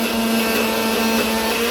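A mixer grinder blends boiled spinach into a paste for palak paneer, giving a loud, steady motor whir with a constant humming tone. The sound runs unbroken and close, with no voices.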